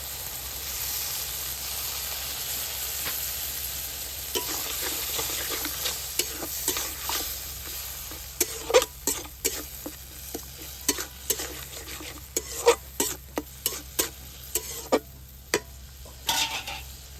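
Spice masala for a cauliflower curry is stir-fried in a pan with a little water and red chilli powder, a steady soft sizzle broken by repeated scraping strokes of the spoon that grow louder and more frequent, with no talk.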